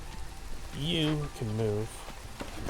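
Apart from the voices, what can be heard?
drizzling rain in the video game Against the Storm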